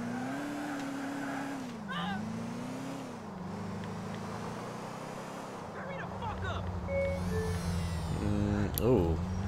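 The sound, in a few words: scooter engine that sounds electric, from video game GTA 4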